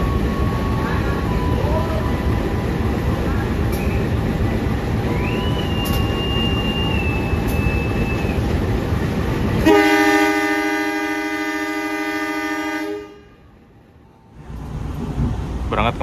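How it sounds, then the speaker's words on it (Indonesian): A KA Batavia passenger train pulls out of Purwokerto station, with a steady loud rumble of the running train and a long sustained horn blast near the end before the noise briefly drops away. "Berangkat kembali dari stasiun Purwokerto"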